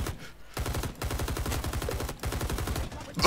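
Rapid automatic gunfire in a video game, loud and close, with sustained bursts of shots that stop briefly and then resume.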